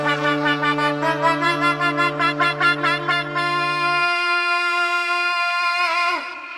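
A war horn-like signature tone from the Jailer film score: a rich brassy stack of sustained harmonics, pulsing in rapid swells for a few seconds, then holding as a steady blaring note before fading out.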